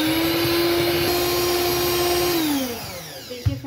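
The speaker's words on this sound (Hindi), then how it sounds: "अब मैं इसे मिक्स करूँगी" Electric hand mixer beating cake batter with powdered sugar, a steady loud motor whine that holds for over two seconds, then winds down and stops, followed by a brief clunk near the end.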